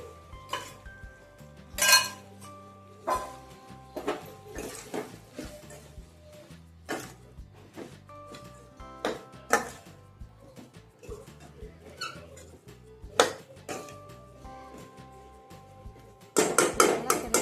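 A spoon stirs okra in a pot of tamarind curry, producing repeated metallic clinks and scrapes against the pot at an uneven rhythm, close and moderately loud, with a brief cluster of faster clatter at the end.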